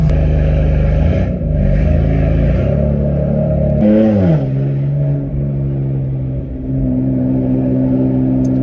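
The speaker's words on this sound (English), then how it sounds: "I'm gonna go ahead and start the car and we're gonna go on a drive." A BMW M4 engine, recently fitted with new spark plugs, revs loudly up close, its rising and falling pitch sweeping through gear changes as the car pulls away and drives, with no talking over it.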